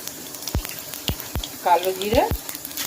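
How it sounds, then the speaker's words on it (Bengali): Nigella seeds and dried red chillies dropped into hot oil give a faint crackling sizzle, punctuated by sharp clicks of a utensil against the pan, while someone speaks briefly. "কালো জিরে ফোড়ন দিলাম, শুকনো লঙ্কা ফোড়ন দিলাম"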